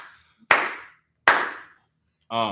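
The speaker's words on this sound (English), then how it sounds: "Loud claps." Two sharp, loud hand claps about three quarters of a second apart, each ringing briefly, followed by a short burst of voice at the end.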